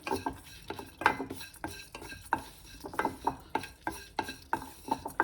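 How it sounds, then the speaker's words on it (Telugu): Ingredients roasting in a thick pan over medium heat, stirred with a repeated, rhythmic scrape and clack of the spoon against the pan, close and fairly loud. "వేసేసి మీడియంలో పెట్టుకుని వేయించుకోండి."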